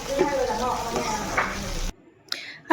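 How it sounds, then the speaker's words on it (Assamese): Potatoes frying in a pan, with a loud, close, steady sizzle and stirring for about two seconds before it cuts off, followed by a brief voice and bits of noise. "আলু ভাজিত লাগিছোঁ গাইজ"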